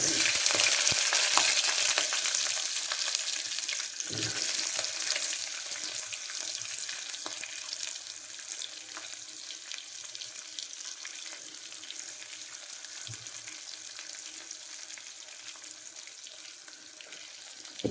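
Onions sizzle steadily in hot oil for egg biryani, a dense continuous frying hiss with a couple of soft stirring knocks, fairly close and fading slightly over time, no talk.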